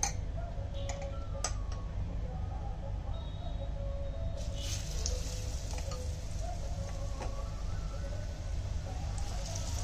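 Eggplant slices go into hot oil for pakoras, with a dense, steady sizzle and fine crackling ticks throughout, close and fairly loud, with no talk.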